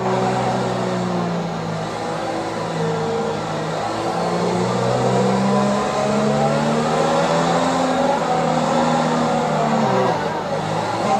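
Race cars in a racing video game hold a steady engine whine that rises and falls in pitch as they accelerate and shift, loud and continuous throughout.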